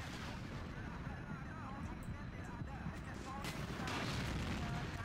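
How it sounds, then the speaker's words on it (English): Distant artillery fire in the video game Battlefield 2, on the Operation Harvest map: a steady, muffled rumble of booms and shots that stays faint and unbroken throughout. "Just have to hold out for the artillery that's coming down."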